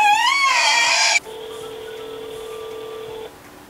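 Phone number being dialed on a telephone, a burst of rapid keypad tones followed by a steady electronic tone that cuts off, close and clear with no voices.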